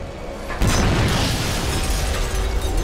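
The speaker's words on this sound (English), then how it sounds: "Suddenly, Krotos explodes." A sudden heavy boom erupts in God of War 3 and settles into a dense rumbling roar of debris that lasts a couple of seconds, loud and close with no talk over it.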